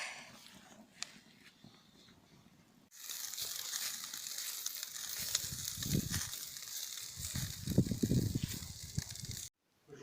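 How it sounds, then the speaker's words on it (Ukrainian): After a quiet start with faint crackles, a loud bright sizzle of shashlik grilling over hot coals on a mangal takes over and holds steadily, with low crackling pops beneath it. "І гарно смажаться шашлички."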